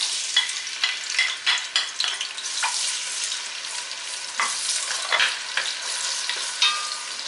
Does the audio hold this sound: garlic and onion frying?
yes